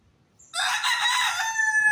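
A Thai bantam rooster crows once, a loud close high-pitched call that starts abruptly after a short silence and holds steady for over a second.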